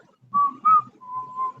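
A woman whistles a short tune of several sustained, steady notes at a moderate, close level, the phrases separated by brief pauses, with no talking.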